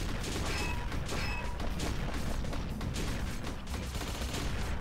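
A shotgun fires repeatedly in the side-scrolling game Gigantic Army, with rapid blasts blending into a dense, continuous barrage of gunfire and explosions.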